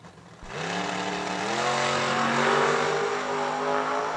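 A 1968 Camaro drag car launches at a raceway: after a brief quiet moment the engine bursts in loudly and climbs steadily in pitch as it accelerates hard, staying strong and close to the end.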